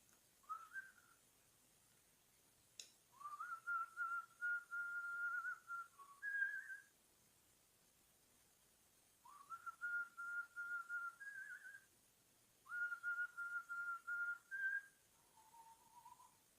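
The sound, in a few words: human whistling a tune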